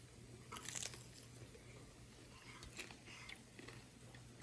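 Someone bites into a birria taco dipped in its juice, giving a few close, faint crunchy bites and soft chewing over a low steady hum, with no talking.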